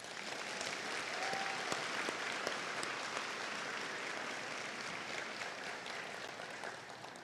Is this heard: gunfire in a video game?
no